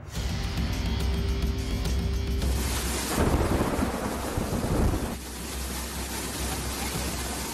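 Heavy rain pours down with thunder rumbling, a loud crash of thunder swelling in the middle over the steady hiss of rainfall, no speech.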